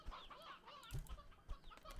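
A hen clucks in short, bursty calls scattered across the moment, fairly close but soft, with a few sharper peaks and light background noise and no speech.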